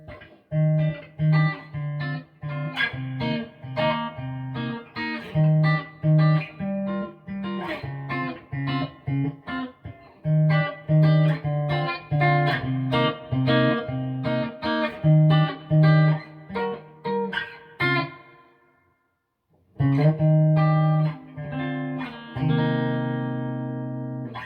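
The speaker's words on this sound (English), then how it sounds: "Let's throw some reverb on here." Clean electric guitar chords through a Peavey XXL amplifier ring out with a spacious reverb tail, strummed in a steady rhythm with a brief pause before resuming.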